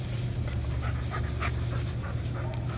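A dog on a training lead pants steadily and continuously, a close, even breathy rhythm with no pauses.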